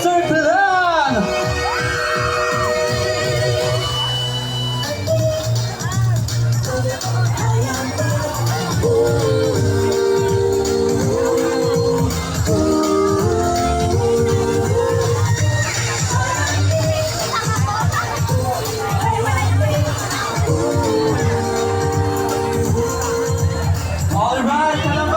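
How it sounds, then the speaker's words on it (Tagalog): A parade crowd in Calamba, Laguna, led by a clan group, shouts and cheers loudly and continuously, with whoops and children's voices rising over a busy babble. "Marinig naman ang malakas na sigawan ng Calamba Texture Clan."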